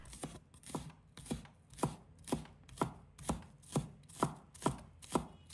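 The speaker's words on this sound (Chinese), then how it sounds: "再准备一把葱白，一块生姜，把葱白切成葱花。" Knife chopping scallion whites into small rounds on a cutting board, a steady rhythm of about eleven crisp, close strikes spaced roughly half a second apart, with no talking.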